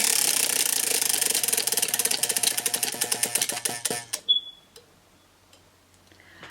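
A TBR prize wheel spinning, its pointer clicking rapidly against the pegs and then slowing to spaced ticks before it stops, close and clear.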